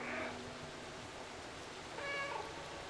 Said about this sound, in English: It would be funny if they had subtitles for the meows.